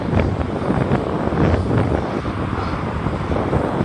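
Wind buffets the microphone during a bicycle ride along the Jeddah Corniche, a steady rushing roar with gusty swells, close and continuous with no voices.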